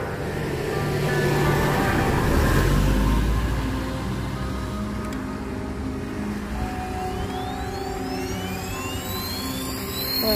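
A model airplane flies at a busy park by a reservoir in Tai Wai, Hong Kong, its engine a steady, fairly loud whine that rises and falls in pitch as it passes, over constant crowd and outdoor noise.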